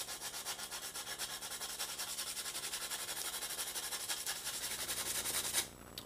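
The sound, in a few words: hand sanding edges of a wooden paddle, 60 grit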